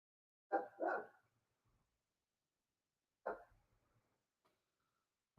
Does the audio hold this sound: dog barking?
yes